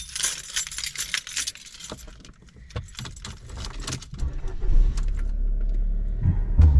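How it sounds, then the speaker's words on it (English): A car is started up after keys jangle and clink near the microphone; the engine then catches and settles into a steady low rumble that grows louder toward the end. "It would help if I turned on the car."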